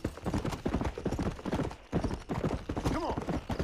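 Horse hooves clip-clop at a steady riding gait through the open-world Western game Red Dead Redemption, a dense, continuous rhythm of close hoofbeats with no talk over it.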